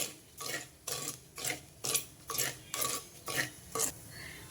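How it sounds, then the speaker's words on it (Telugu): A spoon scrapes rhythmically around a pan while mixed millets are dry-roasted together, roughly ten even strokes in a quick steady pattern, close and fairly quiet. "అన్నీ కలిపేసి వేయించుతున్నా"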